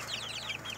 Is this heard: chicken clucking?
yes